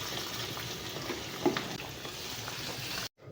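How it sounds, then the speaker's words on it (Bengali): Potatoes fry in hot oil in a pan for a chicken dish, a steady close sizzle with faint stirring scrapes, continuing alone until it cuts off abruptly near the end. "আর চিকেন কষার জন্য আলুটা মা ভাজা করে নিচ্ছে ওই সাইডে"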